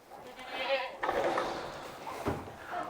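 Goats bleat close by while being fed alfalfa on a farm, several loud overlapping calls in quick succession, with a person's voice talking among them.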